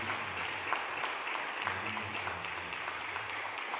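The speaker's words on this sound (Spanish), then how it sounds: "Démosle un aplauso a Cristo Jesús." A church congregation claps together, a steady wash of applause held at moderate level the whole time, with faint voices beneath.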